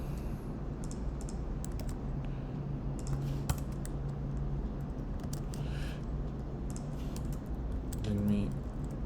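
Rapid typing on a computer keyboard, with clustered key clicks going on steadily over a low background hum, fairly close and moderately quiet.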